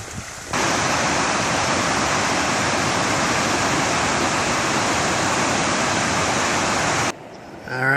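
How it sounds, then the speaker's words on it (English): A rushing stream or small waterfall along a hiking trail in a burned area gives a loud, steady broadband roar that swells in after a quiet start and drops away near the end. "More water, I can hear it."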